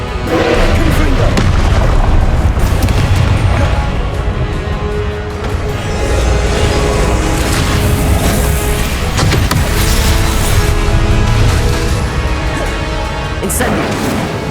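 Confringo spell explosions in the Hogwarts Legacy video game, loud repeated booming blasts and crashing impacts layered over continuous combat noise, dense and close throughout.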